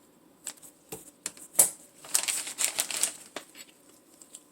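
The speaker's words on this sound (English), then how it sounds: "I'm going to go ahead and get a bag, cut a little bit of the tip off." Plastic piping bag handled in a kitchen while the tip is cut off for cake decorating: close, quiet crinkles and rustles with a few sharp clicks and a short burst of crackling.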